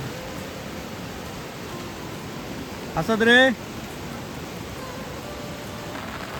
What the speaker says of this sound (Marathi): पाऊस बघा काय लागता जबरदस्त पाऊस लागता आमच्याकडे